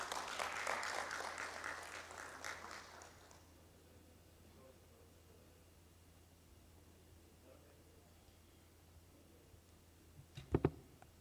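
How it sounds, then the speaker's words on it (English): Applause from an audience at a national dialogue on social protection, welcoming Honourable Sarah Kanyike, fairly loud for about three seconds, then fading to quiet room tone with a few faint clicks near the end. "Let's give her a round of applause"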